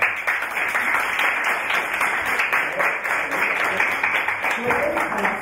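A seated audience applauds at a talk on legal alternativism and transfeminism: moderate, continuous clapping throughout, with a few voices audible beneath it.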